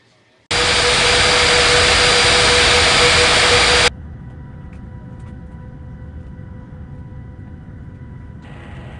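Steady roar of an airliner jet engine taxiing in an air traffic control video game, loud and continuous for a few seconds, then dropping abruptly to a quieter hum with no voices.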